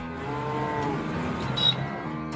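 A water buffalo gives one long, deep, droning moo that lasts the whole stretch and swells slightly near the end. It is close and clear, with no voices.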